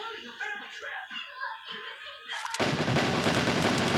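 Gunfire from weapons including a sniper rifle in the stick-figure combat game Stick Fight: voices talk at first, then a loud, dense burst of continuous shooting takes over for the last seconds.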